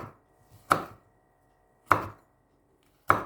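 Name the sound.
knife slicing a chili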